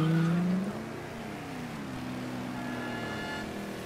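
Engine drone of a car driven in the video game Mafia 3, a louder burst at the start easing into a steady, moderate hum with no voices.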